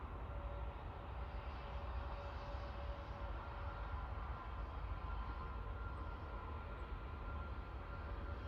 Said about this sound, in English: let's go for the intersection takeoff. We have Lufthansa 1912.